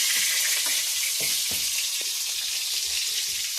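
Pork pressed flat in a hot pan fries with a loud, continuous close sizzle, its bright crackling hiss broken by a few soft scraping stirs, no talking.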